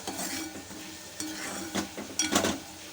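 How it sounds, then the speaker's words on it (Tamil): Capsicum curry with spice powder stirred in a pan, light sizzling under scraping spoon strokes and a few metallic clinks against the pan, close by. "ஜஸ்ட் அதை சேர்த்து ஒரு ஒரு நிமிஷம் கலந்து விட்டாலே போகிறோம்"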